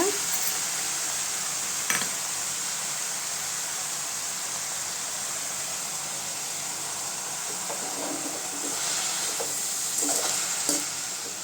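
Mayili keerai poriyal is stirred with salt in a hot pan, giving a steady sizzling hiss with occasional scraping and clinking of the spatula against the pan, close and continuous.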